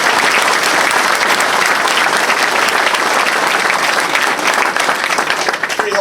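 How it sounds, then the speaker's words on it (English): A crowd at a congressional campaign kickoff applauds the mayor with loud, sustained clapping that fills the whole stretch and tapers slightly at the end. "Let's give it up for my mayor, Dana Red."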